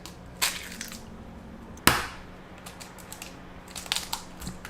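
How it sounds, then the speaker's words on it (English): Eggs are cracked against a bowl, giving two sharp, crisp cracks followed by light shell rustles and small taps, close and fairly quiet. "break the eggs into it"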